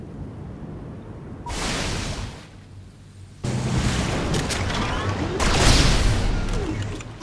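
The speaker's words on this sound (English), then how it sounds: "Commencing attack with naval fighters." Naval fighters attack a Kraken in Civilization: Beyond Earth, with loud rumbling bursts of gunfire and explosions rolling in waves and building toward a heavy barrage, with a voice speaking over the battle.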